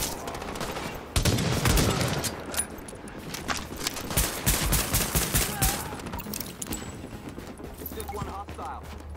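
Rapid bursts of gunfire crackle through a firefight in a Division-style video game, sharp volleys and scattered single shots packed closely together across the whole stretch, loud and close, with no talking.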